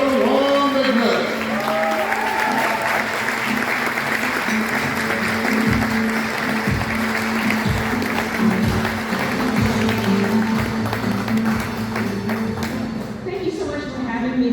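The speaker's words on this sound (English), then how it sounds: "give a big round of applause and greet the Honorable Justice Carla Long McNutt" A hall full of guests at an awards ceremony for influential Asian Americans in Georgia applauds the Honorable Justice Carla Long McNutt, with sustained, dense clapping, some low thumps and scattered voices beneath it.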